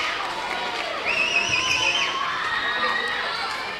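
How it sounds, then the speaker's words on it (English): The Blue Devils crowd at a varsity women's volleyball playoff roars and shouts, high-pitched cheering and screams swelling midway and staying loud and dense, with an announcer's voice under it. "it's hard to ignore the volume from the Blue Devil crowd"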